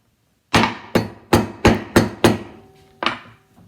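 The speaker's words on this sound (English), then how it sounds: "I'm going to open it up by smashing the end of it with a hammer." Seven sharp hammer blows strike the woody end of a lilac stem close up, six in quick succession, then a short pause before a final hit.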